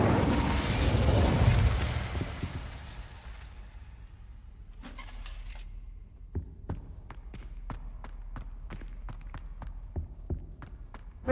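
Incendio fire spell cast in Hogwarts Legacy: a loud whooshing fiery burst in the opening seconds that fades, followed by a series of sharp clicks and taps spaced irregularly, with no talking.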